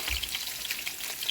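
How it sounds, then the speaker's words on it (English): Snapper fillets fry in a pan with a steady, dense sizzle and crackle of hot oil, close and continuous with small spitting pops throughout. "I'm frying my fish, and I'm going to fry them on both sides until they are brown."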